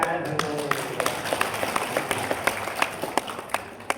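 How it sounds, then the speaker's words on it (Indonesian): Scattered applause from an audience at a teachers' association Halal bi Halal gathering, light individual claps over a murmuring crowd and background room noise. "Tepuk tangan Bu Jari."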